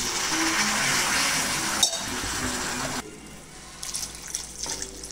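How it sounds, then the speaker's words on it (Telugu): Water poured into a South Indian style masala drumstick curry in the pot, a full rushing gush for about three seconds that then thins to a softer trickle and splash. "సరిపడా వాటర్ వేసుకోండి."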